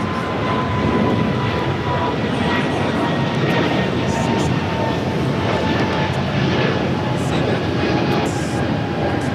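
An ITA Airways Airbus A350 at LAX gives a loud, steady engine roar that holds level throughout, a broad continuous rumble with a faint tonal whine on top.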